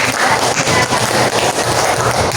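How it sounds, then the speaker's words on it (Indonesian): Classroom children clapping for a classmate after a Qur'an recitation, a dense, steady patter of many hands continuing throughout without a break. "Kasih tepuk tangan buat teman kita yang ini"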